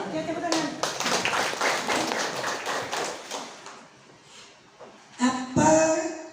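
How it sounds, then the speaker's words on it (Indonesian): Participants at a teacher peer-teaching session on a new school curriculum clap for a few seconds, a dense burst of hand claps that thins out, followed by a couple of louder close taps and faint voices. "tepuk tangan"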